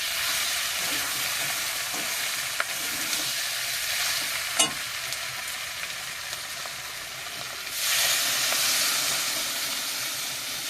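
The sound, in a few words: water added to sautéed meat sizzling in a pan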